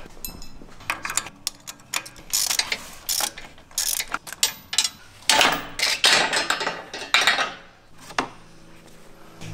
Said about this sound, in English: Get a ratchet, 9/16 inch socket,